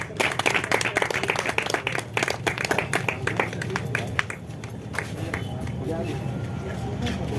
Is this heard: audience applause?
yes